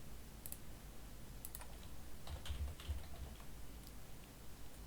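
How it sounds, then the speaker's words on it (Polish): Quick, light keystrokes on a computer keyboard while an account name is typed, a short burst of soft clicks over a faint steady background hiss. "Wpisujemy nazwę utworzonego przez nas konta."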